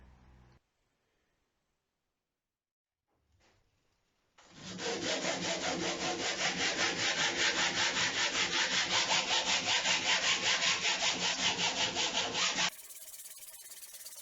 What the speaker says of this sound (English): the hand sanding has begun